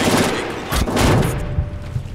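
Burst-fire weapon shots ring out in the shooter game Brink, several loud, closely grouped cracks and thuds in quick succession amid a busy battle din.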